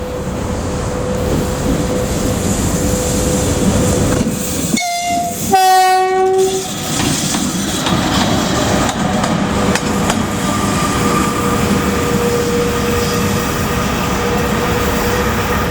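A passing train on a railway line gives one loud horn blast mid-clip, with wagons clattering and rumbling steadily past before and after it; no one speaks.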